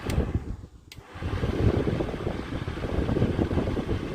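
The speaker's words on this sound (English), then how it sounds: "By far the most powerful fan." DeWalt 18 volt cordless fan running nearby, a steady low whooshing airflow roar that dips briefly after a click, then holds at full strength.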